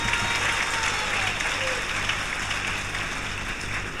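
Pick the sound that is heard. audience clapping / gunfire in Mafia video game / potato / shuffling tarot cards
audience clapping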